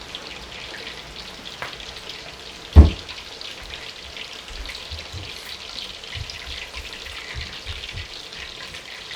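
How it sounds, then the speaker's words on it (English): Steady crackling sizzle of chicken chapli kebabs frying in hot oil, with one sharper pop partway through and no voices. "once the bubbling from the frying stops"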